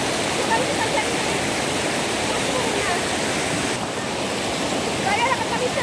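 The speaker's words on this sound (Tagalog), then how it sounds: "napakalakas ng agos." A strong river current rushes loudly and continuously, a dense wash of water noise filling the whole stretch, with faint voices mixed underneath.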